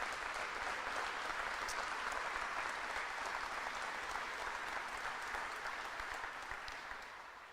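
Audience applause at a special investment announcement by Jiffy in New Brunswick's Acadian Peninsula: a dense, steady wash of many hands clapping throughout, easing off slightly at the very end, with no speech over it.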